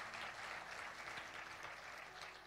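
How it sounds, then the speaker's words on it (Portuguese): A church congregation applauds the Lord during a Portuguese-language worship service, a steady, distant wash of clapping that fills the whole moment without pause. "Você pode aplaudir o Senhor, celebrar o nome dele?"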